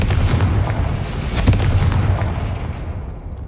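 A Confringo fire spell explodes in Hogwarts Legacy on PS5 with a loud, dense booming blast and a rolling rumble that holds for a few seconds before slowly fading, with no voices over it.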